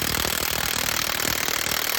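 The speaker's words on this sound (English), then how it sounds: "Get your 32 millimeter and run the axle nut off." Wrench running a 32 mm axle nut off a Polaris Ranger front hub, a dense, loud, continuous rattling hammer sound close by.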